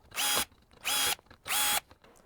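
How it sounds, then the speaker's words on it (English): A power drill with a driver tool tightens bicycle wheel spoke nipples during wheel building, running in three loud, even bursts of about half a second each, separated by short pauses. "As you drive each spoke down from left to right side on the wheel, make sure that your drill and your tool follows the path of the spoke"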